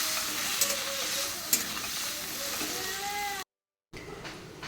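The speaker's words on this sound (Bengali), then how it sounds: "তো চলুন দিয়ে দেবো পেস্টটা, দিয়ে একটু কষিয়ে তারপরে জল দিয়ে দেবো।" A paste of ginger, coriander-cumin powder and green chilli sizzles loudly in a hot pan with steady stirring and scraping. The sound cuts out briefly, then resumes more faintly.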